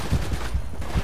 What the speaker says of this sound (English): I'm liking my assault rifle right now